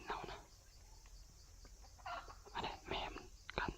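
A jungle fowl hen with chicks gives soft, repeated low clucks with occasional brighter chirps, fairly close but quiet, over faint background hiss and a low murmur.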